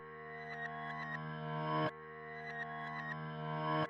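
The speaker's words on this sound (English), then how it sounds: "And then I took that and I rendered it out as an audio file, pitched it up an octave, and then I reversed it." A rendered melodic sample pitched up an octave and played in reverse swells upward twice, each reversed note building in loudness before cutting off abruptly, with no talking.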